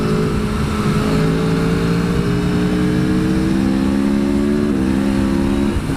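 An Aprilia Tuono V4 1100 motorcycle accelerating hard in race mode, its engine note rising steadily through the gears with a quick shift partway, loud and close with heavy wind rush and no talk.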